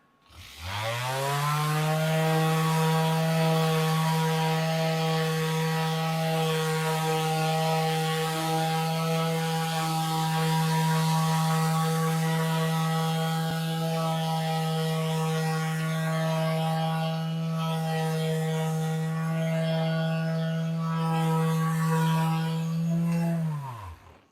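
A cordless abrasive power tool with variable speed settings and onboard dust collection runs alone with a steady, even motor hum for about twenty seconds, winding down briefly at the end.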